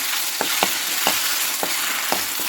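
Ginger garlic paste fries in hot oil for a masala brinjal dish, giving a steady close sizzle with soft periodic scraping strokes from stirring, no voices.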